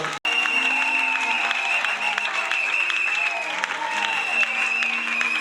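A church congregation claps for Jesus in continuous, steady applause, with sustained musical tones and some voices underneath.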